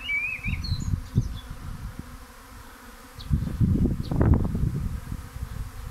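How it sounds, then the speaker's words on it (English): A honeybee swarm landing in a hive box hums as a continuous buzzing roar that swells louder partway through, with a few brief higher chirps in the background. "I could hear the roar of those bees"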